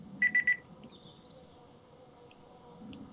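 A timer alarm gives three quick, high, sharp beeps close by, then fades to a quiet room with faint background sound.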